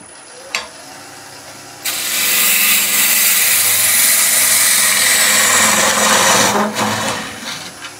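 Woodturning lathe hollowing a natural edge vase: after a sharp click, a loud, harsh scraping hiss of tool against spinning wood runs steadily for about five seconds, then fades back to a quieter hum.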